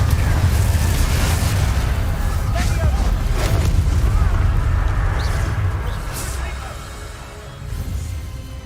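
Confringo spell explosions in Hogwarts Legacy, a heavy rumbling blast with crackling bursts that roars steadily and then fades, with raised voices over it.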